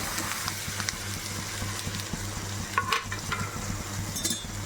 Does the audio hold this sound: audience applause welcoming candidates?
no